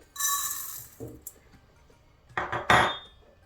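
A short rattling pour of two tablespoons of granulated coffee into a mixer jar, followed by a couple of clinks and taps of a spoon against it.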